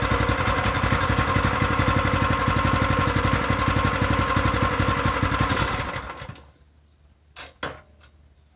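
A Predator 212cc mini bike engine runs loud and steady with a rapid, even putter for about six seconds, then cuts out and sputters down, leaving near silence broken by a few short knocks.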